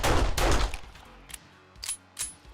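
Gunfire from a weapon in the zombie survival game 7 Days to Die: a burst of rapid shots at the start, then a few scattered single reports, loud and close with no talk.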